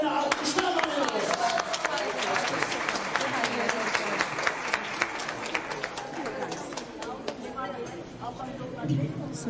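A crowd applauds at a live stage show, continuous clapping with a few louder claps standing out, while voices and some tonal sound carry on over the top.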